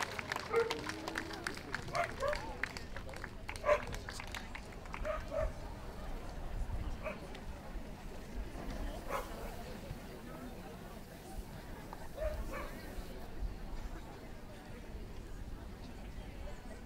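Barks from a Portuguese Water Dog at an indoor dog show for working and pastoral breeds, a few sharp barks and yips scattered over a busy hall murmur, with people talking throughout.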